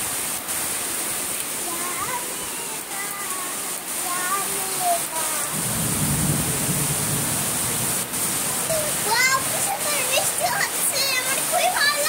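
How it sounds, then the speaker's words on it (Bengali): Steady heavy rain pours throughout, a loud continuous hiss, with a low rumble swelling around the middle that fits distant thunder; a voice sings and chatters over the downpour. "সুপার বৃষ্টি হচ্ছে আমার ভিজতে ইচ্ছে করছে বৃষ্টিতে"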